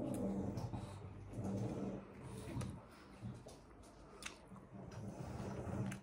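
A dog growls low and lets out whimpers and small yips, close by and fairly quiet, in intermittent bursts over a few seconds against faint indoor background noise.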